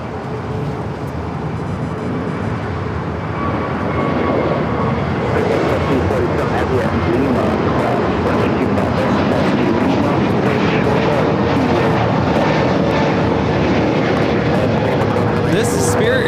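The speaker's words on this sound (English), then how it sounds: "we do have a Spirit A321 now taking off" A Spirit Airlines Airbus A321neo takes off on its way to San Antonio, a loud, steady jet roar that swells after a few seconds and holds strong throughout, with no voices.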